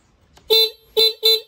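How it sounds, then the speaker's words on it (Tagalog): Three short car horn honks while testing the horn, close and loud, the second and third coming in quick succession after a brief pause. "Kailangan nyo lang siyang i-test yung ating busina"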